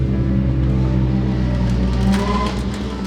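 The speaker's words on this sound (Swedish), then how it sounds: "Jävlar vad de kör med motorcyklar." Motorcycles drive past at a warm summer swimming spot, a loud continuous engine drone that swells slightly and then fades, with no talk.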